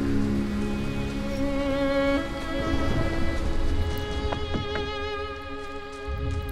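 Rain falls in the video game Ori and the Will of the Wisps, a steady soft patter mixed with sustained musical tones and a few sharper drops.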